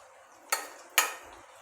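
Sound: stirring cooked lentils with a spoon

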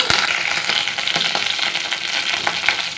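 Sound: mustard seeds and cumin sizzling in hot oil

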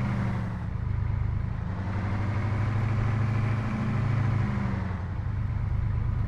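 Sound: vehicle engine idling in video game Arma 3

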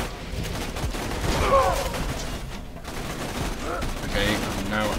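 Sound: gunfire in Borderlands 2 video game

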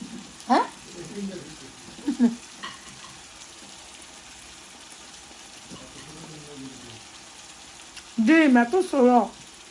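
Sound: frying salmon fish head paste with garlic and turmeric

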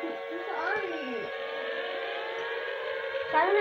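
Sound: Siren Head siren wail in a video game

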